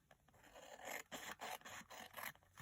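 Scissors snip and scrape through a small Christmas craft piece, a quick run of short cutting strokes close by, with no talking.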